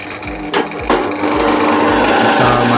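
Melody Custom 09 bench drill press, a 16 mm benchtop drill, running with a steady motor whine and a rattling, noisy body, with a few brief knocks near the start before settling into a continuous close-up drone.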